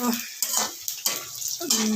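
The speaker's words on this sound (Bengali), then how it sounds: "অল্প করে দেবো সর্ষের তেল, আর ফোড়ন দেবো 5 ফোড়ন" Five-spice tempering hits hot mustard oil with a few sharp bursts of frying and crackling, punctuated by utensil scrapes in a pan, close by with no talk.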